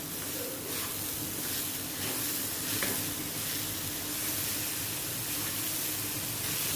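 A pan of 300 grams of jaggery with other ingredients is stirred until the lumps dissolve, for an ukadiche modak filling: a steady sizzling hiss with a few faint scraping stir strokes.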